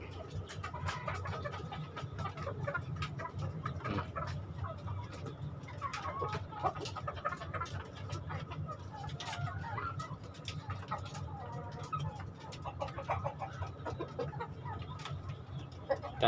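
Chickens cluck and murmur softly in a flock, with scattered higher calls and cooing over a low background hum, fairly quiet and continuous.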